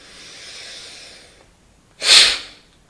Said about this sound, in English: And that's Bhastrika, the bellows breath.